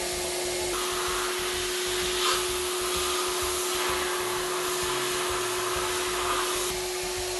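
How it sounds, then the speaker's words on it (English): A sandblaster cleaning small parts such as screws and bolts inside a canister gives a loud, steady hiss of rushing air and grit that runs unbroken from start to finish. "This here is the sandblaster I'm frequently using."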